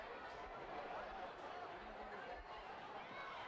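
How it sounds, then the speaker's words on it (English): A crowd in the stands at a high school football game between The Colony and Little Elm, a faint, continuous murmur of chatter and cheering heard from among the spectators. "you're getting some good crowd noise as we are not in the press box tonight"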